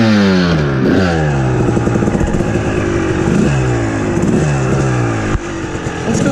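A Kawasaki KX dirt bike engine runs loud and close after a fresh tune-up with new spark plugs and an adjusted clutch, its revs rising and falling in repeated surges with a steady rattly, buzzing two-stroke drone throughout.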